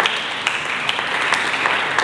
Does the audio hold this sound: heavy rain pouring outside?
no